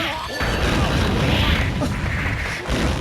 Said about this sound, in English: That charge explosion there